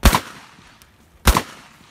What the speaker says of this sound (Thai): จะลองทดสอบปืน 4Z นะครับลูกซองแฝดของ 4Z